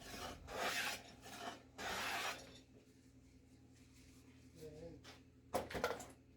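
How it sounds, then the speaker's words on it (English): Finished wood is burnished with a handful of wood shavings, giving two loud bursts of rough rubbing followed by quieter scraping, close up. "After it's dried, I like to burnish it with some wood shavings."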